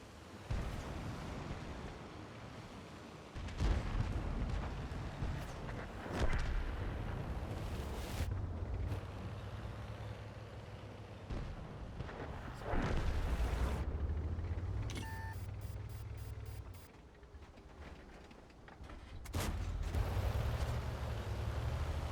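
Heavy artillery blasts in a tank video game, several deep booming impacts spaced apart amid a steady rumbling battle background, with a short electronic beep partway through.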